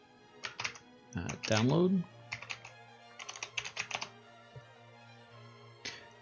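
Keys clatter in quick clusters as someone types a search into a computer keyboard, the clicks close and crisp, briefly interrupted by a spoken word.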